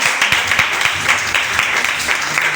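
Church congregation applauding, a dense, loud, sustained wash of many hands clapping together throughout.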